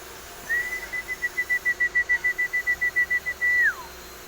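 A person whistles to call birds to feed: one steady trilling whistle, rapidly pulsed, runs for about three seconds and ends in a short sustained note. It is close and clear over quiet outdoor background.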